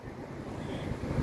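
Gusty wind buffets the microphone, a soft rumbling rush with faint surf-like swells and no voices.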